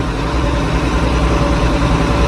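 A tractor engine idles steadily up close, a dense low rumble with a constant throb and no voices over it.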